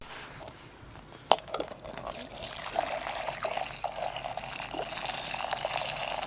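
Boiling water pours steadily into a container, a hissing, splashing stream building after a sharp knock, with faint voices murmuring underneath, while fixing a car's plastic undertray cover.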